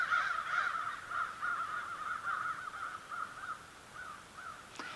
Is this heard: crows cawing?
yes